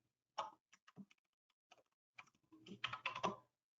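Someone types a password on a computer keyboard during a mapping-software session: short bursts of crisp key clicks, sparse at first, then a denser quick run near the end, close and fairly quiet with no talking.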